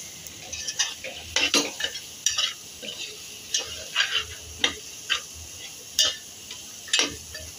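A utensil quickly stirs roasted jowar flour into a pan for a Kokani-style dried bombil, potato and drumstick gravy, making a rapid series of close scraping clinks and knocks against the pan, with no talk.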